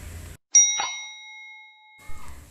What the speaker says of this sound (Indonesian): bunyi bel listrik ini akan terhenti jika saklar dimatikan